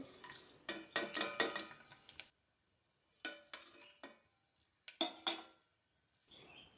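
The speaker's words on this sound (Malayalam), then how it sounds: "നെയ്യ് ചൂടായി വരുന്ന സമയത്ത് ഇതിലേക്ക് ഇടുന്നതിനായി ഗ്രാമ്പു പട്ട പെരിഞ്ചീരകം ബേ ലീഫ് കുറച്ച് ഏലക്ക കൂടെ ചേർത്ത് കൊടുക്കുന്നുണ്ട്" Whole cloves, cinnamon, fennel seeds, bay leaf and cardamom going into hot ghee, heard as quiet clusters of scraping and clinking stirring strokes separated by near-silent pauses, close but soft overall.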